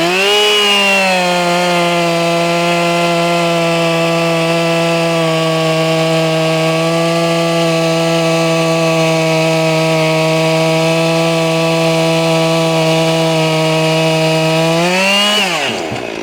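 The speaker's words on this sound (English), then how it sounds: "I'm going to run my 261 real quick" A 261 chainsaw holds a steady, loud high-revving whine for most of the time, then drops off sharply at the end, running alone without talk.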